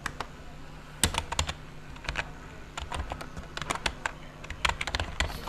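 Typing JavaScript code on a computer keyboard, with clusters of quick key clicks in irregular bursts, close and fairly loud and heard alone with no speech.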